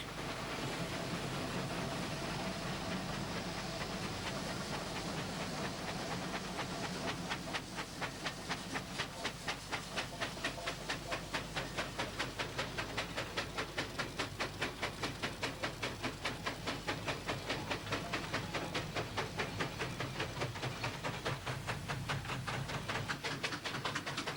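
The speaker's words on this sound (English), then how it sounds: "Just listen to those engines working." Steady rhythmic chuffing of vintage steam traction engines working hard at a traction engine festival, over a continuous hiss and rumble, the beats growing sharper and faster midway through, no voices.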